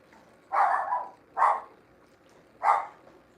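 A dog barks three times nearby, two quick woofs followed by a third after a short pause, with quiet background between.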